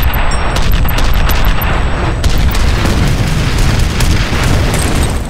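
A powerful grenade explosion in a video game booms loud and close, then its rumble rolls on as a sustained roar for several seconds.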